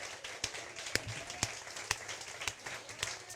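Scattered applause from a church congregation during a worship service, with sharp individual claps standing out at irregular intervals over a broad, steady wash of hand-clapping.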